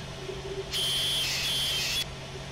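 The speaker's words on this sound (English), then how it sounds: "that signal's giving us that alarm" A steady, high-pitched warning tone sounds for about a second and a half from a track signal in Train Simulator 2015, on a steam FEF-3 Northern locomotive climbing Sherman Hill, over a low, humming cab background.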